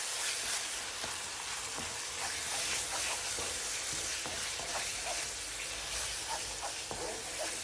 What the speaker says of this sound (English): Stir constantly as it blends into our curry to prevent the yogurt from splitting.